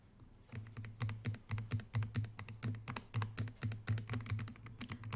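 Keys clatter on a computer keyboard in a steady run of quick, close taps, typing Korean text into an Excel spreadsheet during a basic computer class, with no talk.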